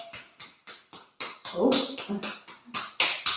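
Hands patting down the chest and around the bottom of the rib cage in a wake-up body-tapping routine, a dozen or so soft, close slaps in a loose, uneven rhythm, heard alone.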